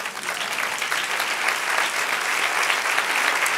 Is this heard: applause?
yes